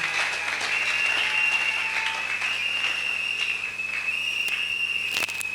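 A church congregation at a closing service claps for the Lord, sustained loud applause mixed with a shrill whistle running through it and occasional sharper claps near the end.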